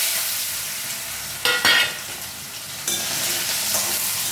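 Potatoes fry with cumin seeds in a pan, a loud bright hissing sizzle throughout, broken by two sharper bursts of stirring and spatula scraping.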